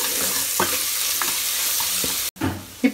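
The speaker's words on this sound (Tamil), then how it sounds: "புதினா சேர்த்து நல்லா வதக்கிக்கோங்க." Mint is sautéed with ginger garlic paste in a pan while cooking a country chicken curry, a steady low sizzle broken by a few soft stirring scrapes, close and alone with no talking.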